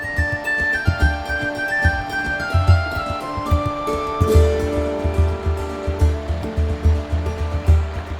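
The River Etherow runs high and full, its steady rushing flow close by and fairly loud, with a few tonal whistle-like sounds layered over the water.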